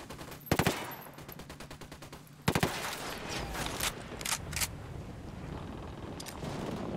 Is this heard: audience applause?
no